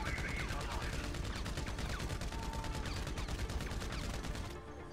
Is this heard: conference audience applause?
no